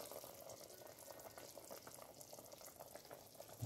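Curry chicken feet boil in a pot, giving a steady, close bubbling and simmering hiss that runs continuously with no talking.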